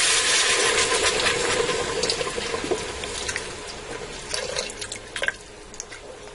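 About two cups of beef broth pour into a pressure cooker pot with a steady splashing, liquid stream that tapers into a few drips near the end.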